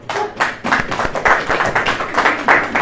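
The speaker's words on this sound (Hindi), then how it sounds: "ताली बजाइए।" A congregation at a religious sermon gathering claps loudly and closely for about three seconds in a dense, irregular burst of hand claps.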